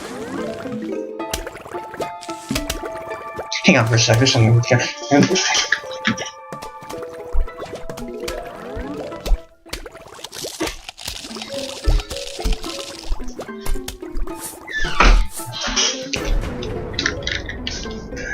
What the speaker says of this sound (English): That was the sound of the bathroom.